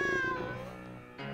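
A cat meows in the Doors: Paradox video game, a drawn-out harmonic cry that slides downward and fades, then a shorter second mew rises near the end; loud, close and alone, with no talking.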